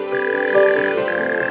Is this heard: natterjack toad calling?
yes